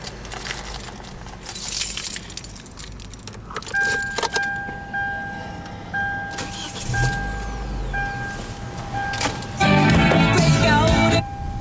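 A 2010 Hyundai Elantra GLS, a 16-valve twin-cam engine with an iron block and aluminum head, comes to life after keys jangle and a chime beeps, followed by a louder burst as the motor turns over.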